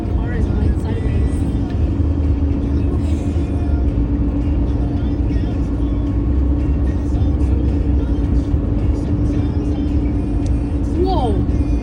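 Strong dust-storm wind in Arizona buffets a car, a steady loud roar and rumble pressing on the vehicle throughout, with occasional gusty swells.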